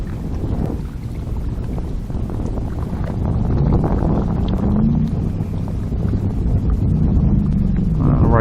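A loud motorboat on a lake heard through gusty wind buffeting the microphone, a steady low droning engine with rising pitch sweeps, no talk.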